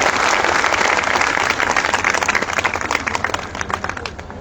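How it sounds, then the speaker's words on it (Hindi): A large crowd at an outdoor political rally of the Pan community in Bhagalpur claps loudly and steadily, dense applause filling the whole stretch and thinning slightly toward the end. "जोरदार तालियां बजाइए उनके लिए"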